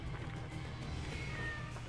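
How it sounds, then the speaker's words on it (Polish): A cat in the Assassin's Creed Origins video game gives a short, faint meow over a constant low game background hum. "O, kotek!"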